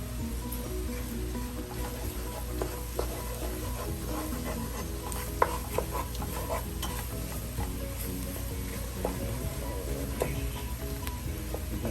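Meatball stew ingredients sizzle and soften in a pot while a utensil stirs them now and then. The frying hiss holds steady, broken by occasional scraping clicks, and no one speaks.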